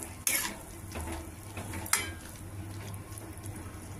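Tamarind paste is stirred into a cluster beans curry in a pan: a utensil scrapes and clinks against the pot twice, sharply, over a soft continuous sizzle.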